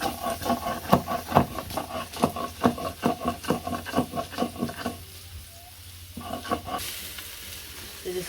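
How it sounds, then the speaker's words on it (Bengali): Soybean chunks fry in hot oil in a pan, stirred so they turn reddish-brown: rhythmic scraping and stirring strokes over a steady sizzle, with a short quieter pause partway through before the stirring resumes. "সয়াবিনগুলো লাল লাল করে ভেজে নিলাম।"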